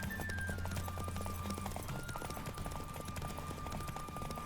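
Roach, a horse in The Witcher 3 game, galloping flat out in a race, with rapid, steady hoof clip-clop close up under background game sound and music.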